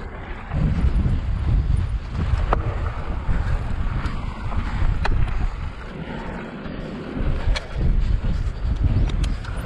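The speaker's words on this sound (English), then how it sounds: "The wind is pushing me really strong right now." Strong wind gusting on the Cajon Pass single-track trail in Hesperia, California, roaring and buffeting a moving microphone in loud, surging waves with scattered clicks and knocks.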